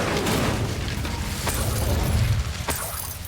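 Incendio fire spell cast in the Hogwarts Legacy video game, a dense rumbling whoosh of flame that runs steadily at close range, with sharp crackling bursts near the middle and end.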